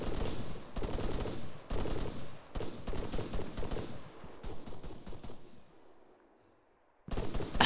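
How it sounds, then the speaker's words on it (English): Bursts of Arma 3 gunfire ring out in rapid automatic volleys, loud cracks in clusters that thin out and fade to near silence before one more sharp burst at the end. "Are we getting shot at or somebody shooting at somebody?"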